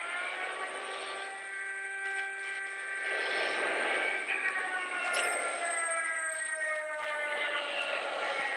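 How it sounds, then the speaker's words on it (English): Aircraft flyover from a friendly airstrike in the Call of Duty Warzone Mobile game, a sustained jet roar with tonal whine that swells midway and stays steady, mixed with game effects and no talking. "Friendly airstrike incoming."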